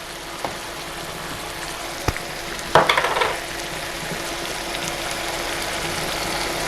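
Peppers with coriander and other spices sauté in a pan for spicy ramen: a steady close sizzle, with a brief louder burst of stirring and scraping partway through, then constant frying hiss, no speech.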